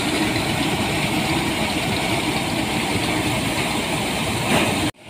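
An engine-driven maize threshing machine runs outdoors in a village, its loud, steady mechanical drone holding constant before cutting off abruptly near the end.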